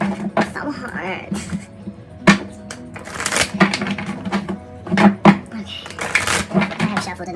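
Oversized oracle cards are shuffled by hand in a tarot-style pick-a-card reading, giving a run of irregular papery flicks, slaps and riffles at close range, mixed with a talking voice.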